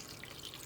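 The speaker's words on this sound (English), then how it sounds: "now you're going to add a little bit water" Water poured into a coconut milk broth for curry crab and dumplings, a brief, faint, soft stream of running water, steady and alone.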